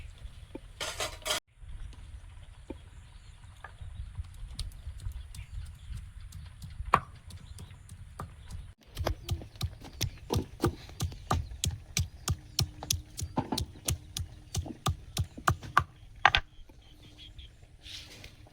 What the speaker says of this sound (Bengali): আদা, শুকনো লঙ্কা আর গোটা জিরে একসঙ্গে বেটে নেব